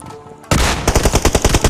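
Gunfire in the video game PUBG Mobile: after a brief quiet moment, a loud, close burst of rapid automatic shots rattles out in a fast, steady rhythm.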